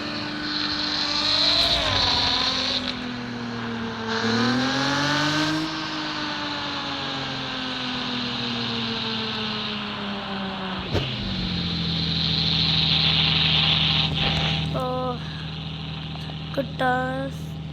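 Toyota Supra MK4 engine in a racing video game, revving through rising and falling gear shifts with a sharp braking moment midway, loud and continuous, with a voice talking over it in places.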